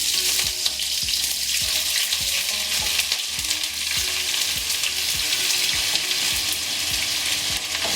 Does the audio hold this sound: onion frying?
yes